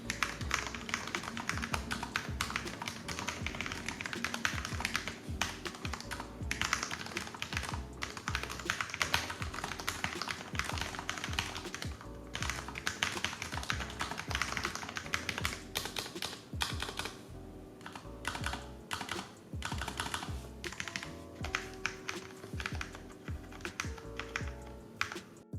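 Rapid, continuous typing on a Cooler Master SK621 60% low-profile mechanical keyboard, light clicky keystrokes tumbling quickly and evenly with brief pauses, close and clear.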